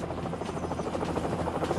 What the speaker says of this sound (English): Helicopter gunships soon arrived to assist.